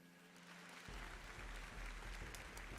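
Applause from a crowd in the Ace Attorney Spirit of Justice video game breaks in suddenly after a quiet opening and carries on as a dense, steady clapping wash to the end.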